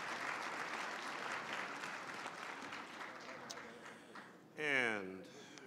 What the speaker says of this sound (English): Let's give all of our award winners one more big round of applause.